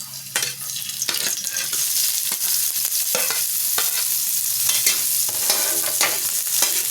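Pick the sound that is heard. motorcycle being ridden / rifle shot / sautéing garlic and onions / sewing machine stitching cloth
sautéing garlic and onions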